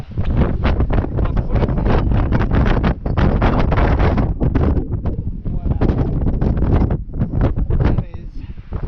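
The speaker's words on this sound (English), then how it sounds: "Windy" Gusty wind on the Three Capes Track in Tasmania pounds the microphone in loud, choppy bursts, with a brief spoken word partly buried under the roar.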